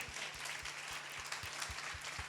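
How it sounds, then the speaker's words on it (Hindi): A church congregation at a Friday meeting claps loudly and rhythmically in unison, the sharp regular beats rising above a wash of scattered clapping and a faint low hum, heard from some distance. "जोरदार ताली, जोरदार ताली, जोरदार।"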